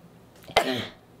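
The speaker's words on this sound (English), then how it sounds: "I have to sneeze." A single sharp sneeze-like burst, close and fairly loud, with a brief breathy trail afterward.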